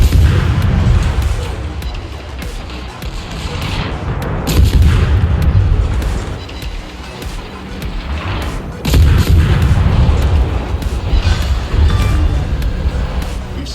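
Naval gunfire in World of Warships as a Tier 2 German destroyer, V-25, battles enemy destroyers: a continuous loud rumble of booming salvos and impacts with sharp cracks scattered throughout.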